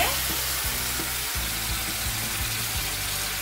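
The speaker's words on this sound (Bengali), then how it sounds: "আমার আদা, রসুন, পেঁয়াজ ভালোভাবে ভাজা হয়ে গেছে।" Ginger, garlic and onion paste frying with tomato in a pan for a spicy snail curry, a dense continuous sizzle over a low rhythmic stirring thud, no voices.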